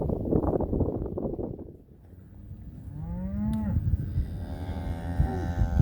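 Dairy cows on a farm in Wales moo loudly several times, long drawn-out calls rising over a steady breezy background.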